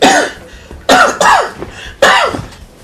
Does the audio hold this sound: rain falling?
no